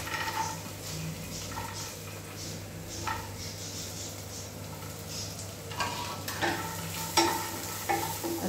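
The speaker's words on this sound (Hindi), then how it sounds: "और इसे चलाते हुए भून लेते हैं।" Chutney ingredients, everything but the coconut, are stirred and roasted in a pan, giving a steady close sizzle with repeated scraping strokes that grow louder and busier toward the end.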